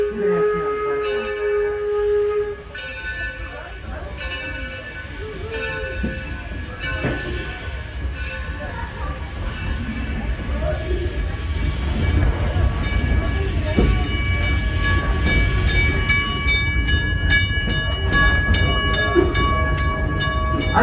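A Torch Lake excursion train rolls on a ride around the village perimeter with a steady rumble and clatter of wheels on rails, a sustained horn or whistle tone, and occasional squeals growing louder toward the end.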